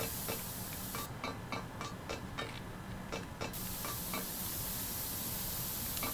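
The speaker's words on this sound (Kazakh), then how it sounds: "Мына жерде бу бар ғой, бізді күйдіреді да бу." Steam hisses from vents in a Roblox game as a faint, steady airy rush, dotted with soft rhythmic ticking clicks throughout, with no voices.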